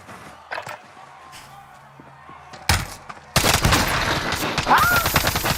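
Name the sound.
gunfire in Warzone video game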